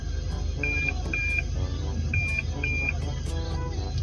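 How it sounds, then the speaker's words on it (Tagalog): Toyota Altis reverse parking sensor beeping: four short, evenly spaced electronic tones in two pairs over a low idling car engine, with faint clicks and no talking. "Alright, so may beep siya."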